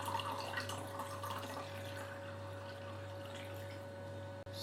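Desi chai is poured into a mug and some of it spills over the side, giving a soft, faint trickle over a steady low hum, with no voices.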